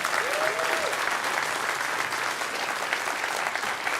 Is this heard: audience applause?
yes